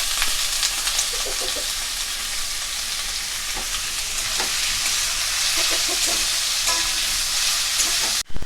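Potatoes cut like fries sizzle in hot mustard oil in a wok, a loud steady frying hiss with scattered crackles that runs unbroken for several seconds before stopping abruptly.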